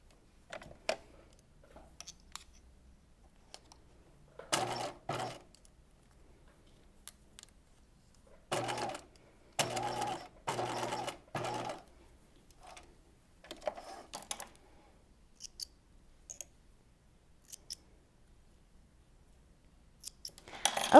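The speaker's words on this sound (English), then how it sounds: "now we're going to machine baste these 2 layers together" A sewing machine bastes two fabric layers together for a Breton top, running in short, quiet bursts with clicks and gaps of near silence between them.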